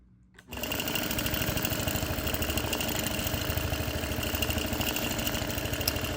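A sewing machine free-motion quilts the border of a hand-appliquéd wall quilt, starting up and then running continuously at a steady fast rhythmic hum, close and loud with no talk.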